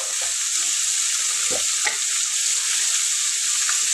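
Tomato frying in a pan on a low stove flame with salt, chilli powder and turmeric added, giving a steady loud sizzle throughout with a couple of faint stirring knocks.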